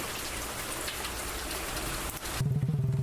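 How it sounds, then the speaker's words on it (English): Steady rain patters against glass in a horror visual novel game, a dense continuous wash that cuts out near the end, where a low humming tone with a pulsing rhythm takes over. "The rain continues pitter-pattering against glass."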